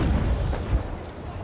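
Upper-deck cannons of a sailing warship fire a volley in the naval combat game Naval Action, heard as a loud, continuous low rumble of rolling gunfire with a heavier thump partway through and no voices over it.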